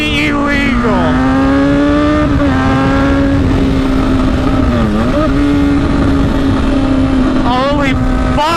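A car with a straight-pipe exhaust drones very loudly from inside the cabin, holding a steady roar with several sharp revs and shifts while someone talks over it.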